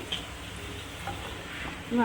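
Quiet sizzling of potatoes frying in hot oil with a little turmeric, a soft steady hiss with faint stirring clicks.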